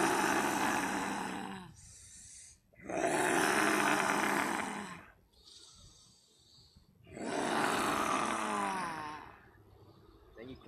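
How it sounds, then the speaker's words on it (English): Slow, deep breaths, three long airy inhales or exhales, each lasting a couple of seconds, separated by quieter pauses, close and clear with no talking. "Deep breath."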